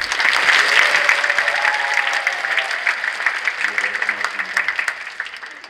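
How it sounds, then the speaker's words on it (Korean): An audience at a multicultural choir competition in a church setting rehearses a big round of applause, dense steady clapping that thins into more distinct claps toward the end. "큰 박수로 이렇게 맞아 주시면 좋겠습니다"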